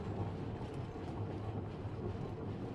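A moving train in the video game Honkai: Star Rail gives a faint, steady mechanical rumble with light rattling and clanking throughout, heard alone without talk.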